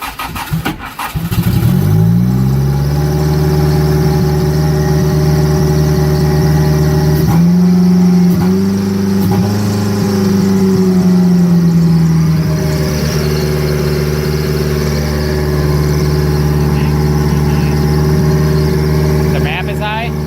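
A Mitsubishi 4G63 engine with retimed cam gears cranks briefly, catches and settles into a loud, steady high idle. The idle holds steady at a raised pitch with a short dip and wobble partway through, and people talk nearby.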